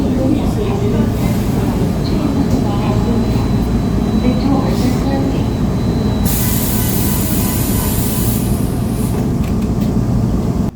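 Seoul Subway Line 9 express train accelerates after overtaking at Gayang station, with loud continuous rumbling of wheels and motors, a high squeal partway through and a hissing rush of noise in the second half.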